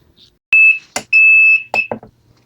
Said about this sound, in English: You just heard the beep